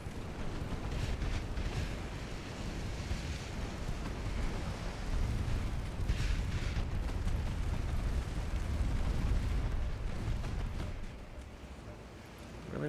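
Heavy naval gunfire from warships in Ultimate Admiral Dreadnoughts, a steady rumbling roar of booming broadsides and low thunder-like blasts with a brief dip before rising again near the end, no talk.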